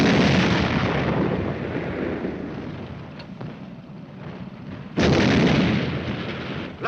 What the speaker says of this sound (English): Platoon, lay a couple of rounds in that Kraut tank for good measure.